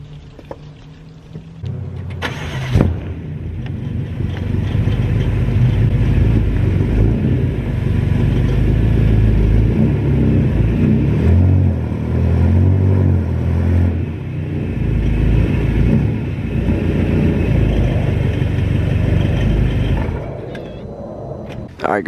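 BMW F10 M5 idling and creeping forward to drive up onto bricks; a low, steady engine rumble runs throughout, opening with a sharp knock and easing slightly in level toward the end.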